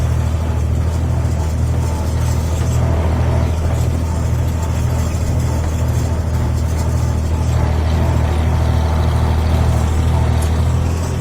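An Oliver 105 tractor working a hay field, its engine a steady, loud, low drone that holds an even tone throughout with no talking.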